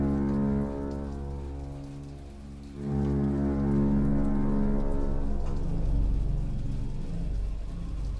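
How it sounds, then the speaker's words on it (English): Steady video game rain pours down in a dense, continuous wash with a low rumbling underlayer, loud and close with no voices, in BioShock Infinite. "I like how the rain is running down."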